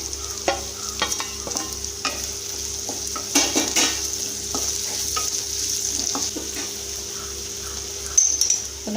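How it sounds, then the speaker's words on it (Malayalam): Finely chopped shallots frying in a pan with green chilli and garlic, a steady close sizzle broken by scraping stirs and occasional clinks of a utensil against the pan. "ഇതിലേക്ക് നമ്മൾ ഉള്ളി ഇടാൻ പോവുകയാണ്"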